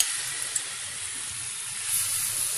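Marinated chicken sizzles in hot oil in a pan, a steady broad frying hiss throughout with a small pop or two, close and fairly loud with no talking.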